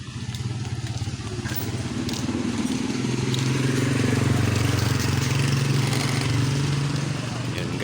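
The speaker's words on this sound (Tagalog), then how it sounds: "may nag-aayos ng motor dito guys" A motorcycle engine under repair idles and revs steadily nearby on a street corner, rumbling loudly with a rising pitch, while people talk over it.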